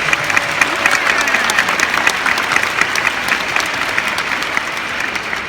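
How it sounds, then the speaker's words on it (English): A graduation ceremony audience applauds, a dense, steady wash of many hands clapping that holds evenly throughout at moderate volume. "Please join me in another round of applause for our parents, teachers, and everyone else that has stuck with us for these 18 years."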